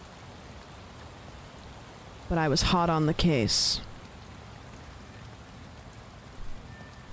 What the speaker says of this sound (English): It was still raining